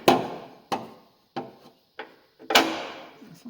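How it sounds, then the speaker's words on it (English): A hammer drives a brass punch against the spring perch of a 1997 Jeep Wrangler, five sharp ringing metal strikes at uneven intervals, close and loud, with no talk. "I just got a good old hammer and a brass punch"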